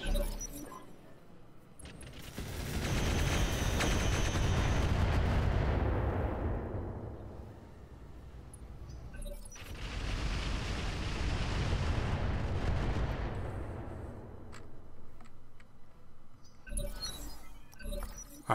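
Mech weapons fire in Roguetech as two long, heavy roaring blasts that swell and fade, followed by a few sharp clanking impacts, loud and close with no talk.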